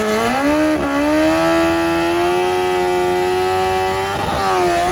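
Kawasaki ZX14 drag motorcycle engine at a drag racing event, holding a loud, steady high-pitched drone that rises slightly with revs, with brief dips near the start and end and crowd-level noise underneath.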